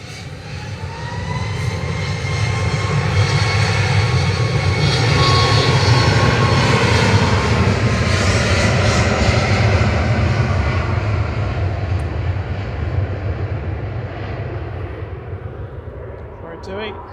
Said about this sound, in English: A350 900 about to touch down.